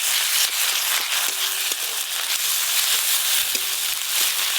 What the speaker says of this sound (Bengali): এর সঙ্গে এবার আদা রসুন বাটা দিয়ে একসঙ্গে ভালো করে ভেজে